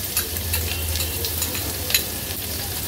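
Chopped onion sautéing in oil with cumin, bay leaf and asafoetida, a close, steady sizzle broken by sharp scraping taps of a spatula stirring in the pan.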